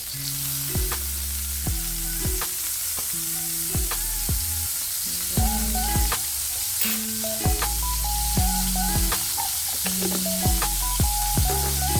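Squid and bell pepper frying in margarine give a steady sizzle beneath loud, prominent melodic background music that plays throughout.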